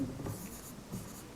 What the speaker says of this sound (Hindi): फिर लिखेंगे, तीसरा लिखेंगे हुएनसांग।